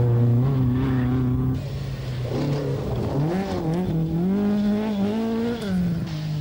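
Rally cars racing on muddy stages at the 1983 Boucles de Spa Rally in Belgium, one close engine revving hard and rising through the gears, loud and continuous with a strained, buzzing tone.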